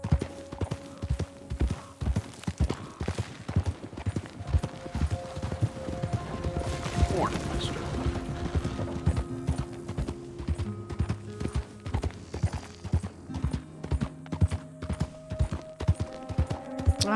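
Horse hooves galloping in the video game Red Dead Redemption 2: a steady, close clip-clop rhythm running the whole time, with tonal game music or ambience layered underneath.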